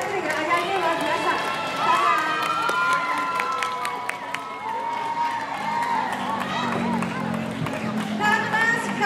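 Children cheer and shout together during a school literacy activity, a lively crowd of young voices with scattered clapping that stays loud and steady throughout.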